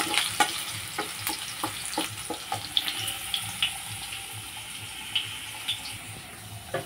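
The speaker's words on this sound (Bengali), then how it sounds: "এখন আলুগুলোকে আমি একটু লালচে করে ভেজে নিচ্ছি।" Two medium potatoes cut into eight pieces frying in hot oil until reddish, a steady close sizzle with frequent light clicks and scrapes of a stirring utensil.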